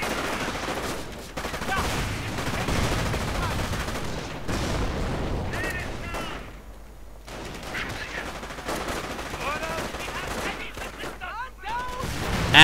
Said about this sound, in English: And lots of grenades going everywhere.